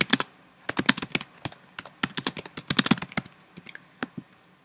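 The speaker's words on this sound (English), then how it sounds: "and then type one in." Someone types on a computer keyboard, tapping out an irregular run of crisp, close key clicks in quick bursts with short pauses between them, heard alone.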